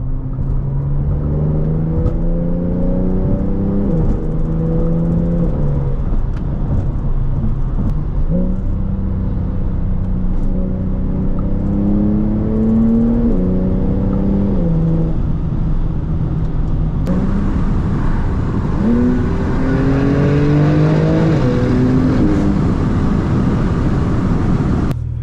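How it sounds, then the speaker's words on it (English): Porsche 911 992 Turbo S engine accelerating hard through repeated gear pulls, loud and close, with rising revs, each shift dropping the pitch before it climbs again, no talking over it. "I want you to enjoy the sounds of the 911 Turbo S"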